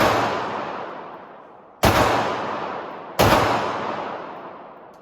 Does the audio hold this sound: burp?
no